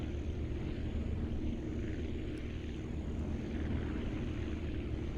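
A propeller aircraft engine in the Aviassembly flight game drones at raised throttle, producing a constant, dense rumble with a steady pitch and no pauses.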